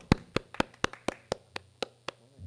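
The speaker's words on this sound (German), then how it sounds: "Applaus für Hanno." One person claps roughly ten times at a slightly uneven pace to welcome Hanno onto a stage, the claps near and crisp over a faint steady hum, with no voices.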